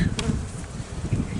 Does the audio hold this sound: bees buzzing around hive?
yes